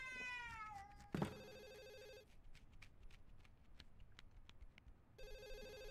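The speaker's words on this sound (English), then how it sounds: "Sounds like a cat." A cartoonish cat in the Wii game Ju-On: The Grudge meows in a rising, stretched cry, then a sharp yowl, followed by quiet game ambience with tonal chimes returning near the end.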